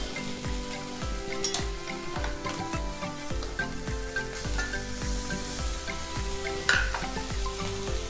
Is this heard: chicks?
no